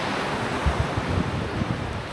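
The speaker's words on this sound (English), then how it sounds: "let's get into the sea." Sea waves wash in at a beach near Valencia, a steady broadband roar of surf with a few low thumps and some wind noise, close to the microphone and with no voices.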